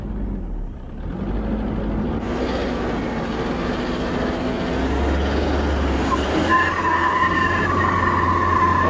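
A Toyota Hilux climbs a steep hill in two-wheel drive, with a steady, loud engine drone and rumbling tire noise on loose ground that grows slightly heavier toward the end.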